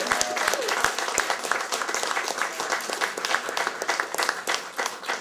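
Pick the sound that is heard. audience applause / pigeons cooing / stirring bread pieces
audience applause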